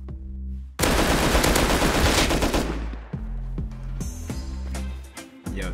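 Gunfire from a raid in Rust: a loud, sustained automatic burst breaks out suddenly, then gives way to repeated shorter volleys of rapid shots, close and dominant, with no talk.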